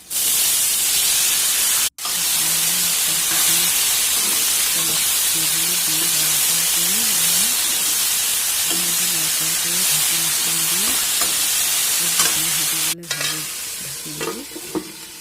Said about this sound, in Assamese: পিঁয়াজ জলকীয়া তেলত দি দিলোঁ